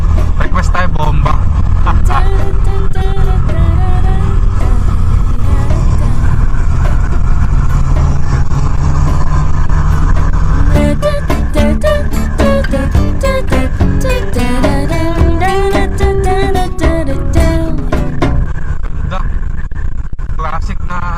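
A 1986 Honda CBR250R four-cylinder 250 cc motorcycle engine revs repeatedly in rising and falling bursts nearby, with steady background music and chatter running underneath.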